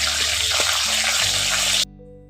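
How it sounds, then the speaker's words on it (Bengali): Bay leaf, fennel seeds and black cumin sizzle in hot oil for a Bengali cucumber curry, giving a steady close crackling hiss that cuts off abruptly near the end. "ওই তেলের মধ্যে একটি তেজপাতা দিয়ে দিচ্ছি, মৌরি আর কালো জিরে অল্প করে দিয়ে দিচ্ছি। আর ফোড়নটাকে একটু ভেজে নিচ্ছি।"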